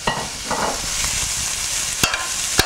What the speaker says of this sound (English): we're going to stick that in our pot, a skillet.